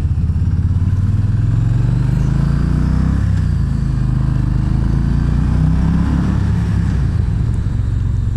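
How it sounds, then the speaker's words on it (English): A 2018 Yamaha Venture V-twin touring motorcycle rumbles loudly and steadily while being ridden, its deep engine note swelling and easing with throttle changes and accompanied by faint mechanical clatter, with no talking. "definitely sounds like a mean V-twin"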